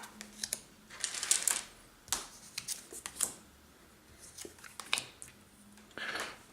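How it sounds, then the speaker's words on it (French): Playing cards for a board game being drawn and dealt onto a table, a series of short papery snaps, slides and shuffles at irregular intervals, close and fairly quiet, with no one speaking. "il reste à faire la distribution des cartes"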